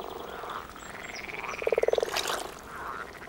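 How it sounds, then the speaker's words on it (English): Grass frogs croak in shallow water in a rapid, pulsing trill of close, clear calls over a soft outdoor background. "The grass frog's reproduction cycle starts in shallow water."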